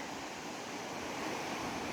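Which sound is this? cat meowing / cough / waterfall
waterfall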